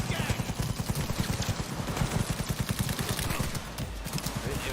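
Rapid automatic fire from a smart gun in a video game: a dense rhythmic stream of close, loud shots running almost the whole time, with a voice talking over it.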